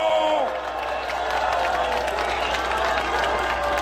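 Crowd at a street campaign rally in Gwangmyeong's Cheolsan Rodeo Street, clapping and cheering steadily throughout, with a voice briefly audible over the applause at the start.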